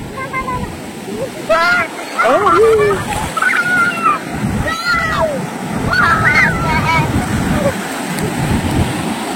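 Sea waves wash at RK Beach in Visakhapatnam as a continuous loud surf roar, with voices and chatter on top throughout.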